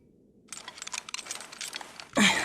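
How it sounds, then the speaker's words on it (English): Harness straps being fastened on a character's back in the video game Fragile Dreams: Farewell Ruins of the Moon, heard as a close burst of quick rattling clicks followed by a sharper, louder snap at the end. "Did you fasten my sides until they made a clicking sound?"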